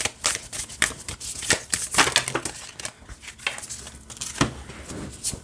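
Matte oracle cards are shuffled by hand in quick bursts of papery riffling and soft crinkly slaps, close and irregular, with short pauses between bursts and no talking.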